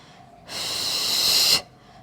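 A single strong breath during an abdominal exercise workout, close and airy, one sustained inhale or exhale lasting about a second between quiet moments.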